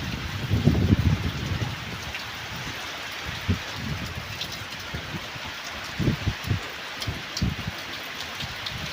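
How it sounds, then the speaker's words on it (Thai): Heavy rain pours steadily with a dense hiss, and scattered louder drops and splashes stand out near the listener. "ฝนตกดีขนาด"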